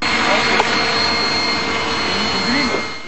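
A Bayraktar, the first Turkish-made unmanned reconnaissance aircraft, drones overhead with a steady, continuous engine whine and hum used for border surveillance, holding a fairly even level throughout with faint background voices.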